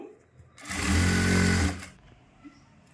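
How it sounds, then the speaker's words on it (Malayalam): A sewing machine runs a single steady burst of stitching on a trouser side pocket, loud and close for about a second, then stops, with quiet room sound before and after. "ഇനി നമുക്ക് താഴ്വായ സ്റ്റിച്ച് ചെയ്തിട്ട് നോക്കാമേ"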